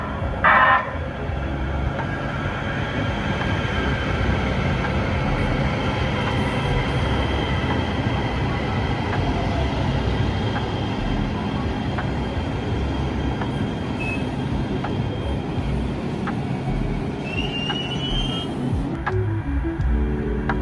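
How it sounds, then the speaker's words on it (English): A Metro A Line light rail train rolls past with a loud, continuous rumble of wheels on track and faint metallic squeals, sustained for about twenty seconds with no talking. "So at least the A line trains come here pretty frequently."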